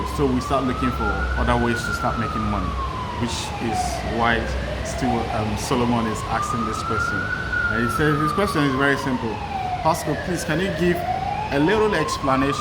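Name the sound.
emergency vehicle siren in a city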